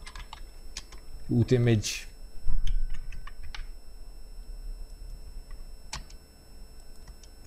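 Scattered keystrokes on a computer keyboard during Windows Deployment Services setup come as light, close clicks with gaps between them, while someone talks quietly.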